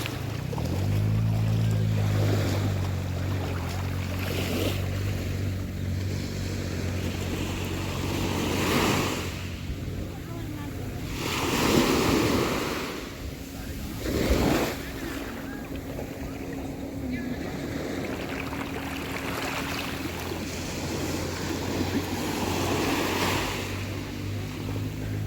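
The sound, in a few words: sea waves breaking on a beach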